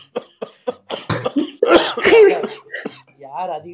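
A run of sharp, close coughs in quick succession builds into heavier, throatier hacking, ending in a rough voiced cough at the tail.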